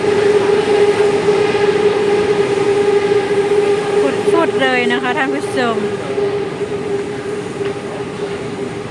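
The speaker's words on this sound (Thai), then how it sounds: "ข้างบนก็รถไฟวิ่งอยู่เด้อพี่น้อง" A train rumbles steadily overhead on an elevated track with a constant hum, and someone talks briefly in Thai partway through from the walkway below, over the continuous rail noise.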